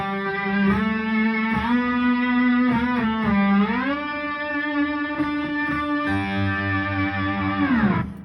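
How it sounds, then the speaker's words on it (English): Sliding, sustained steel guitar notes with bending pitches and a distorted, effected tone, phrases gliding up and down before a final downward slide. "we've got the steel guitar tones there for you as well."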